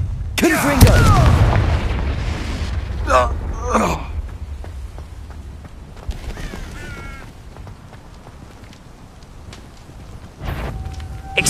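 A Confringo blasting spell in Hogwarts Legacy sets off a booming explosion with a loud, rumbling burst, followed by crackling effects while in-game voices shout spells over the action.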